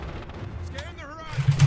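Low, muffled explosion rumble in the World War II game Red Orchestra 2: Heroes of Stalingrad, swelling at the end beneath a voice talking over it.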